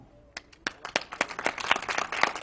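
Audience at a lecture on cancer breaks into applause, scattered claps building quickly into steady, fairly close clapping from a crowd.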